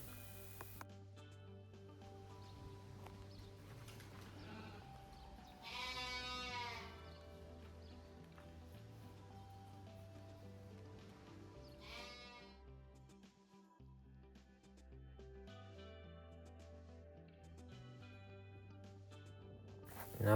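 Sheep on a working farm in North Yorkshire bleating a few times at a distance, the calls rising briefly over a steady low hum and quiet background.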